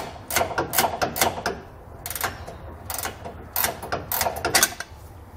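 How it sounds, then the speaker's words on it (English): Wrench ratcheting a nut off a truck frame rail while removing a stopper, heard as quick bursts of sharp metallic clicks in several rhythmic runs, close and clear with no voices. "you're going to be using a 15 millimeter wrench and removing a nut that supports the Jount stopper"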